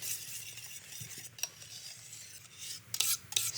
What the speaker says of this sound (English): Sure it's whisked all the way through.